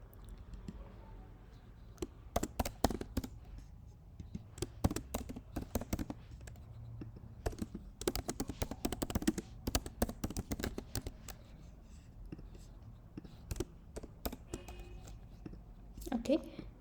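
Close computer keyboard typing while writing Android app code, irregular bursts of key clicks coming and going, partly under someone speaking in a quiet room.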